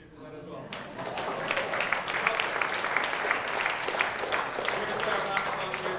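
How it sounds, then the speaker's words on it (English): A crowd at a high school and Navy jazz band concert bursts into sustained applause and cheering that swells after a brief quiet moment and stays loud and dense throughout. "So yeah, you can cheer for that as well."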